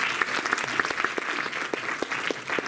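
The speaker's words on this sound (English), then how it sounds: "Can we have a round of applause, please?" Brief applause from an audience at a birthday gathering: a close, steady patter of handclaps from a modest crowd, with faint voices underneath.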